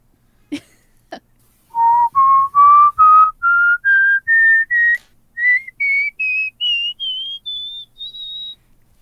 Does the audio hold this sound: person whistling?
yes